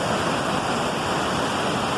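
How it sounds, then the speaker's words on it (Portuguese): A waterfall pours over rocks in a steady, loud, unbroken rush of water, close by, with no other sounds standing out. "Vendo essa cachoeira rolando na pedra aqui."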